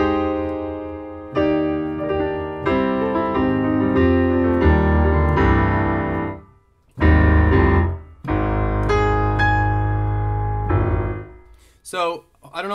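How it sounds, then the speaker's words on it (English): A VI Labs Ravenscroft 275 virtual grand piano plays rich sustained chords and melodic runs, loud and close, with a brief pause midway before more ringing chords. "Basically, it's mapped to a much better grand piano."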